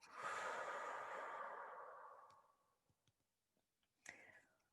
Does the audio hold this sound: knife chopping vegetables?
no